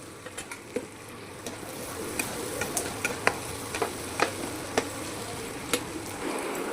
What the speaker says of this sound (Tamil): வெங்காயம் வதங்க ஒரு 5 நிமிஷம் வதங்கும்.